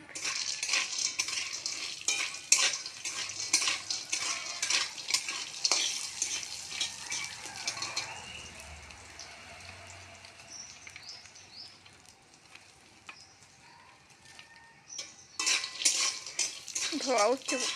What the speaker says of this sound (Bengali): বড়িগুলো ভেজে নেব ভালো করে